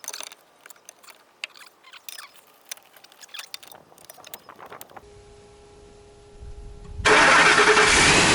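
A 2004 truck with a replacement manual-transmission computer cranks after a few seconds of faint clicks and rattles, then catches and settles into a loud, steady idle near the end.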